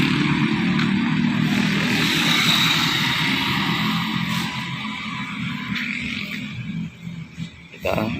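Busy street traffic near a zebra crossing, with motorcycles, cars and small minibuses passing. A loud, steady roar of engines fills most of the stretch, easing slightly toward the end.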